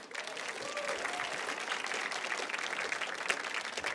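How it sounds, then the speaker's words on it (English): A round of applause from the audience at a regional student television awards event, honoring college winners. The clapping is moderately distant and steady throughout, with no voices over it. "They deserve another big round of applause."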